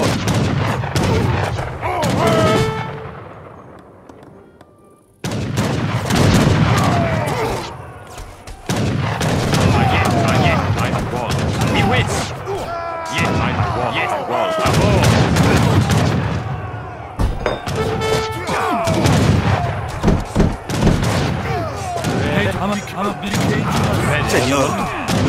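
Heavy bombard cannon blasts and gunfire in the Age of Empires 3 video game, loud thumping booms and crackling volleys in repeated bursts, briefly cut to silence near five seconds.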